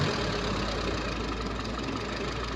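An overheating car engine runs loud and close, a dense steady mechanical roar that holds an even level throughout, with no distinct rise in pitch and no voices.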